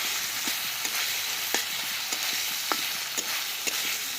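Masala paste for a Foli fish curry sizzles over a clay earthen stove, a constant low hiss punctuated every half second or so by brief ladle scrapes as it is stirred; no speech.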